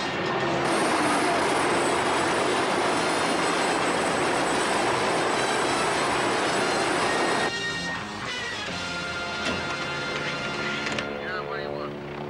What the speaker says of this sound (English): there's a naval helicopter out here